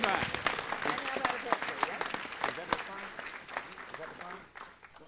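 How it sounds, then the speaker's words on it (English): Audience applause at a city council meeting for a ward citizen of the month, a dense spread of clapping that runs throughout and fades toward the end, with a voice speaking over it. "Let's give her another round of applause"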